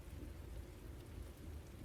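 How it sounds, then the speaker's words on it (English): A storm with rain and thunder: a steady, dense hiss of rainfall over a continuous low rumble, quiet and unbroken throughout. "You hear the low murmur of the storm."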